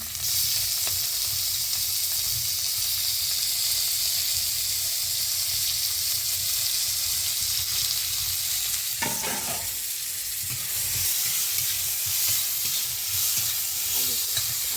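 Chopped tomatoes go in with onion and black cumin seed and sizzle loudly in hot oil, with a constant fry and occasional scraping stirs partway through.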